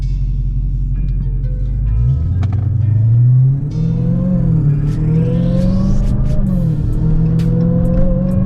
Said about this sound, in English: Supercharger sound good this morning.